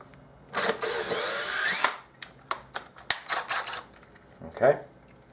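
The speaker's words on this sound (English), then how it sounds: "I know it's not very much to actually go and drill through this plastic" A small power drill with its smallest bit bores through plastic for a DIY GoPro monopod: one sustained close whine of about a second, then a series of short bursts and clicks, with no talk over it.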